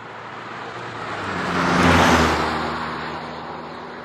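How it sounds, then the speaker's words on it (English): A loud car passes close by, its engine noise swelling from a distance to a peak near the middle and then fading away, heard alone without talk. "That car was loud."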